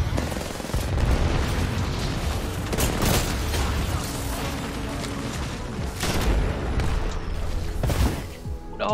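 Gunfire in Apex Legends, heard as a sustained stretch of rapid shots and booms with mechanical clatter, loud and dense throughout.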